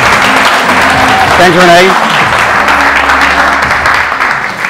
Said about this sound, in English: can I please get a warm applause for our own CTO and CEO, Dirk.